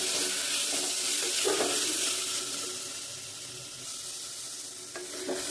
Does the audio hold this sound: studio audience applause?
no